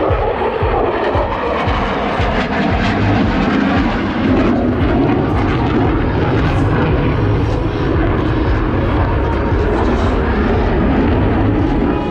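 A USAF F-16 Fighting Falcon roars overhead at max power during a demo, its loud engine rumble and rushing thrust filling the air continuously and steadily.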